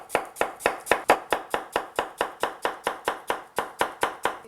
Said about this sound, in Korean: 그 다음에 이제 배채도 썰어 주세요.